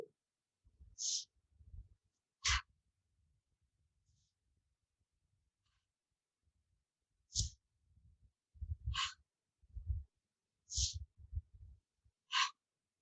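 Deep breathing during a yoga session: a quiet series of separate breaths, sharp airy inhales and exhales recurring every second or two, close and soft against a near-silent room, with short gaps between them.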